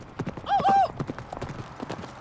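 Horses' hooves clip-clop on a prayer horse ride across northern Nevada, a steady rhythmic clatter with a brief whinny midway, heard close over faint background voices.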